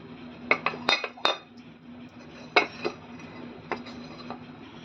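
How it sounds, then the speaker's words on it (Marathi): An appe pan being greased with oil, with a handful of sharp metallic clinks and taps from a utensil against the metal pan in small clusters, fairly quiet over a soft background hum, no speech. "हे आप्याचं भांडं आहे याला सगळीकडे तेल लावून घ्यायचं आधी"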